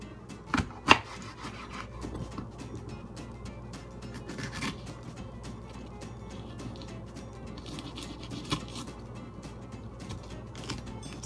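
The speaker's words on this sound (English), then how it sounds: "chop up the jalapeno into maybe 3 pieces of the half here" A knife chops a jalapeno into a few pieces for fresh pico de gallo salsa, using a dull knife that makes it tricky; soft irregular knocks and rubbing scrapes come through close, with two sharper taps early on.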